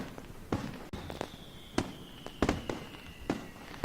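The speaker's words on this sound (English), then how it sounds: "I guess those are the fireworks" Fireworks in the visual novel game Katawa Shoujo go off as a scattered series of sharp, faint pops with irregular timing, and a thin whistling tone runs through the middle.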